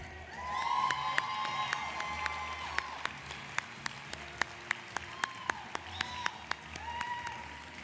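An audience gives sustained applause with some cheering and whoops at a school district awards ceremony, while sharp individual claps stand out above the steady crowd clapping throughout.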